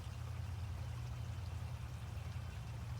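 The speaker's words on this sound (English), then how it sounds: "Listening to the water surrounding you here" Steady rushing water from a waterfall, a dense continuous flow that stays even and fairly soft, with no voices over it.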